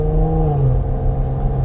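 A Cadillac CT5-V's engine hums with a deep, steady rumble close by, loud and sustained over a brief moment without talk.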